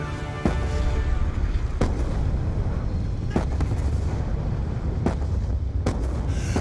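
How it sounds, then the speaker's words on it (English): Heavy mortar barrage in Call of Duty Black Ops 2, loud booming impacts landing every second or so over a constant rumbling battlefield roar. "The mortars have stopped!"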